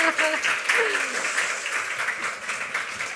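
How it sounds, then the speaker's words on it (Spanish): Audience at a book presentation on María Goyri applauds a speaker, a full, close round of clapping that continues steadily, with voices speaking briefly over the start. "pero podéis aplaudirla."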